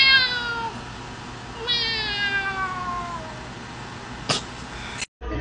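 Two long drawn-out meows imitated by a human voice, close and clear, followed by a short sharp sound before the end.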